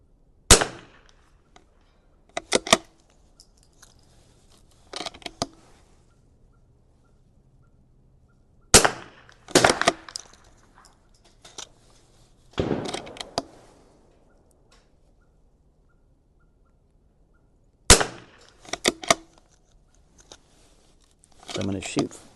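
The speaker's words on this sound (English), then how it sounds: "So I'm going to shoot a couple more here" Sharp reports from a Vudoo V22S .22LR rifle fired at 100 yards, a handful of single shots spaced a few seconds apart with brief talk between them, each shot a crisp crack close to the microphone.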